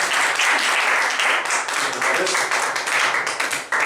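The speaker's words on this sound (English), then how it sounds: "One more round of applause for the big guy here." Loud, dense applause from an audience after a talk on conflict in worship ministries, sustained clapping throughout with a brief dip near the end.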